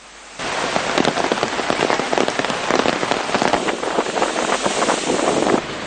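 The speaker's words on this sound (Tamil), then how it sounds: "இன்று காலை முதல் கொழும்பின் பல்வேறு பகுதிகளில் மழையுடனான வானிலை நிலவியது" Rain falls in Colombo, Sri Lanka, in wet, unsettled weather, a dense, steady patter of drops on surfaces with gusty wind noise, rising abruptly and continuing unbroken without speech.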